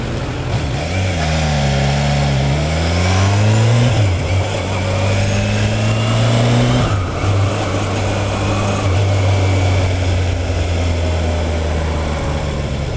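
Kawasaki H2 SX SE motorcycle accelerating on a road through the gears, engine pitch climbing in rising sweeps with shifts between them, loud and close under steady wind roar, passing another car.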